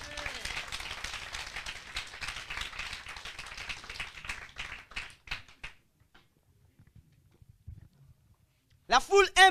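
A church congregation claps and cheers in a dense, noisy swell of applause that thins into scattered claps and then fades to quiet, with a few louder bursts returning at the end.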